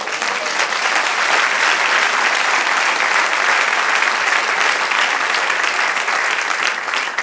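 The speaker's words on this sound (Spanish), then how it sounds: "Y haz un aplauso al Señor." A church congregation applauds steadily and loudly throughout, dense continuous clapping from a large crowd with no pause or voices on top.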